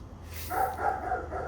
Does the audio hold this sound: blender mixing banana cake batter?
no